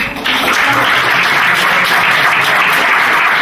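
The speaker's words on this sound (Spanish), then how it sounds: "Recibámoslas con un fuerte aplauso." A conference audience in a hall claps to welcome speakers, a steady, moderately loud roll of applause that swells in quickly and holds without pause.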